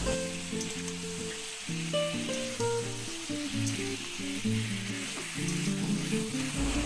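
Chicken pieces fry over a medium gas flame in a pan with onions, a steady close sizzle and crackle with bubbling oil and occasional stirring scrapes, no talking.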